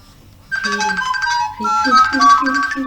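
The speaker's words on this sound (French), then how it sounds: "c'est mon téléphone qui sonne" A mobile phone ringtone plays a bright, melodic electronic tune with two repeating phrases, loud and close, starting after a brief quiet moment.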